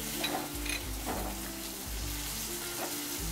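Tomato frying in a pan with a paste of coconut, garlic and ginger for a Maharashtrian potato curry, a steady close sizzle with a few stirring scrapes and clinks, no talk.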